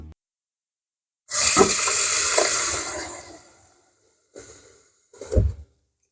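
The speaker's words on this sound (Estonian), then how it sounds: "valage seda vett nii kaua, kui see veekeedukann ise lämbub sellesse vette ära" Water runs into an electric kettle in a long steady pour of about two seconds that fades out, followed by two short splashy bursts; no voices.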